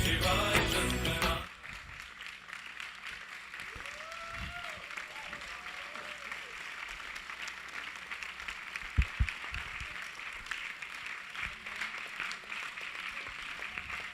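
An audience at an evening devotional performance breaks into applause, a loud burst of clapping at the start that quickly drops to a faint, sustained crowd murmur with occasional soft sounds.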